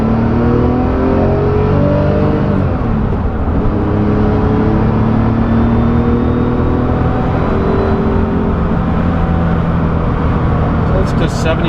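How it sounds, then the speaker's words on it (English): A 1970 Porsche 911E coupe accelerates through the gears from a rolling start, its loud engine note climbing steadily in pitch with rising harmonic tones inside the cabin, and a voice talks over the drive. "we're just going to do sort of a rolling start here and go through the gears"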